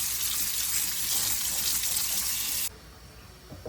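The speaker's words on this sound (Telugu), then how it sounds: "ఒకసారి చల్లటి నీళ్ళతో కడుగుదాం." Cold tap water runs steadily over shrimp in a strainer, a close, even splashing rush that stops abruptly near the end, leaving a quiet room.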